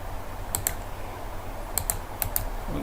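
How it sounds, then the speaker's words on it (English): Computer mouse clicks while operating structural engineering software: three quick pairs of crisp, close double clicks spaced across a few seconds, with quiet room tone between them. "we click, we click, we click, click, click,"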